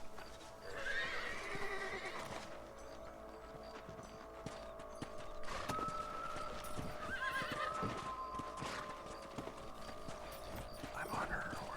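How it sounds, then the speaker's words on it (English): Horses in the video game Red Dead Redemption gallop with steady clip-clop hoofbeats and several whinnies and neighs over a continuous game background, with no talk. "Let's get back on the horses and see what else is going on."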